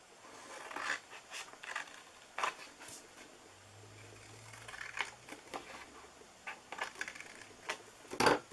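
Scissors cut paper along a score mark while making a festive snowman treat box, giving soft, quiet snips and rustles in short, irregular bursts close by, with no talk.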